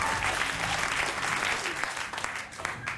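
Live audience at a Demetri Martin stand-up comedy show breaking into dense, sustained applause, loud and full throughout, with a voice speaking faintly underneath.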